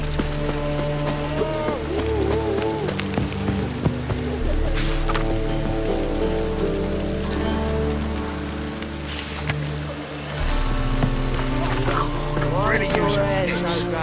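Rain falling in The Witcher 3: Wild Hunt, a steady hiss of drops beneath game music and tonal ambience, continuing throughout with a few louder swells.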